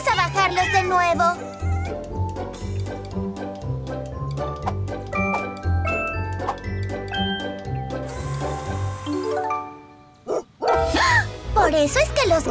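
Barking from a cartoon dog chasing cats up a tree, sounding as repeated short yaps over bright background music, with a burst of chatter and voices near the end.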